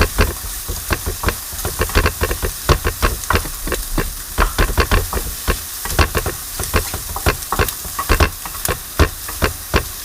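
Chopped onion and carrots frying in a hot pan for fried rice, with a strong sizzle under rapid, repeated knocks and scrapes of stirring, close and loud.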